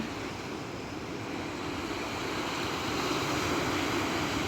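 Black Sea surf on the coast at Odesa, a steady broadband wash of waves that swells slightly louder toward the end, with some wind noise on the microphone and no voices.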